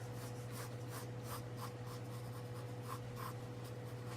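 A pencil draws an oval egg shape on paper, giving soft, rhythmic scratchy strokes repeating about every half second, close and quiet over a faint steady hum.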